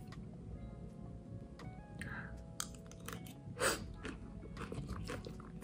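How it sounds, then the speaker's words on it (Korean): Close, soft chewing and crunching of a healthy diet bibimbap made with cucumber and perilla leaves, a few small crisp bites standing out over quiet room noise, with no talking. "그럼 맛있게 먹겠습니다"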